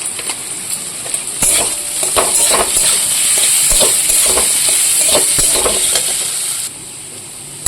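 Spice masala with ground cumin and Kashmiri chili powder sizzles and fries in a pan while a utensil stirs it in steady scraping strokes, loud and close with no talking.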